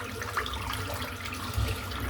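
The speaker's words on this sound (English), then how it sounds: "And I'm going to rinse the soap out and set it to the side to dry" Shaving soap being rinsed under a running tap at a sink, a steady close wash of water with a brief louder splash near the end.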